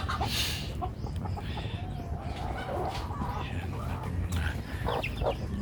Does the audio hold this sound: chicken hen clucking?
yes